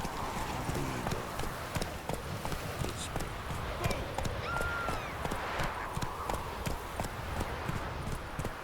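A horse galloping in The Witcher 3, rapid rhythmic hoofbeats running steadily under a continuous wash of ambient game noise, with a voice speaking over it.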